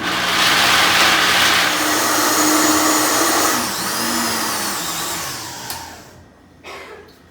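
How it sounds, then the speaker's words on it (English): A Vitamix blender roars loudly for several seconds blending almonds and water, its pitch shifting as the contents churn, then winds down and stops, followed by a brief clunk. "I'm going to just blend this up now"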